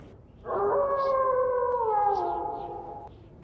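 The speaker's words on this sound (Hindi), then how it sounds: "तभी कहीं दूर से कुत्ते की रोने की आवाज सुनाई पड़ी" A single dog howls in the distance, one long mournful wavering cry lasting about two and a half seconds that slowly falls in pitch, heard alone over a faint background hush.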